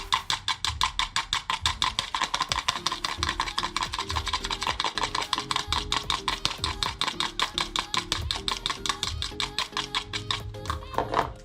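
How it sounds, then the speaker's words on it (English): Dalgona coffee mixture being whisked in a bowl: fast, steady, rhythmic scraping and rasping strokes, continuous and close, with faint background noise. "We continue whisking"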